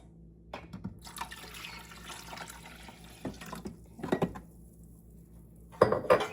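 Water poured from a measuring cup into a coffee maker reservoir during a descaling clean, heard as short sloshing pours between clinks and plastic handling knocks, close and fairly quiet.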